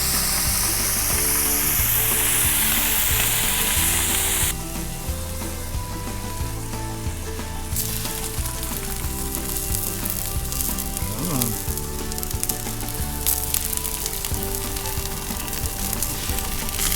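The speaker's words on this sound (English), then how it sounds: "Sizzle, sizzle." Bratwurst sausages sizzle and crackle steadily in a hot frying pan, a continuous fizzing hiss with occasional sharper pops and a brief scrape.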